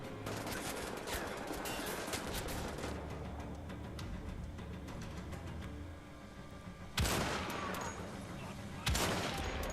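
Rapid enemy gunfire in the shooter game Wolfenstein: The Old Blood, a dense, steady fusillade of shots through most of the stretch with two sharper, louder bursts near the end.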